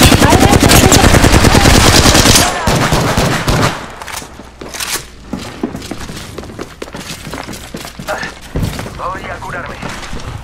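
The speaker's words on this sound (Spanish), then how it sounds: "Están disparando." Rapid bursts of automatic gunfire and single shots from Apex Legends crackle loudly and close, denser at first and then sporadic, mixed with thuds and excited players talking over it.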